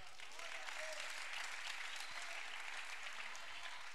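A church youth congress crowd bursts into sustained applause, a dense, even wash of many hands clapping throughout the hall, moderately distant and unbroken for the full stretch.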